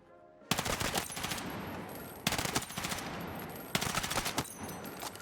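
Automatic weapon fire in a first-person shooter game, three sustained loud bursts of rapid shots separated by brief pauses, close and dominant.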